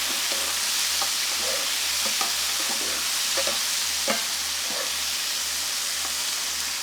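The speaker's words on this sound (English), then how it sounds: "Give them a nice stir around in the olive oil." Lemon halves are stirred in hot olive oil in a skillet, giving a continuous close sizzle broken by scattered scraping and clacking stirring sounds, with no speech.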